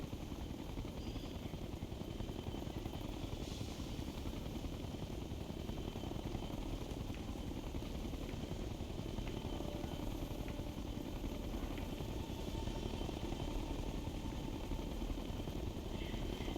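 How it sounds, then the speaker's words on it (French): Helicopter in the video game Tom Clancy's Ghost Recon Future Soldier, a steady, dense rotor-and-engine roar that fills the whole stretch without letup, close and loud. "il faut pas vous faire remarquer par l'hélicoptère"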